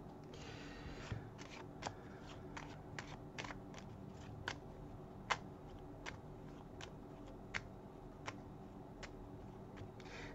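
Tarot cards are shuffled and handled, a steady papery riffle with sharp individual card snaps every second or so, close and quiet with no talking.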